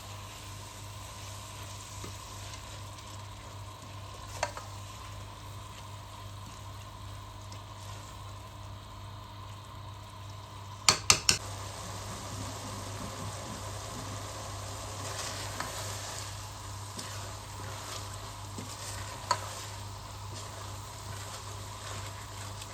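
Mash dal roasting with spices in a pan over a high flame, a steady low sizzle throughout with occasional sharp scrapes and clinks of a spoon stirring, no voices.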